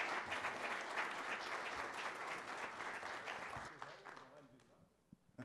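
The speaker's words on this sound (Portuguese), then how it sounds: "Salve de palmas ao palestrante." Workshop attendees applaud the speaker at a Brazilian transmission-planning event, a full burst of crowd clapping that fades away toward the end, with speech over the tail.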